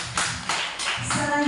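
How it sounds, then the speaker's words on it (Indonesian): Audience clapping hands after a teachers' session: a short burst of several claps at close range, fairly faint, fading into a brief voice at the end. "kita tepuk tangan dulu untuk Bapak Ibu"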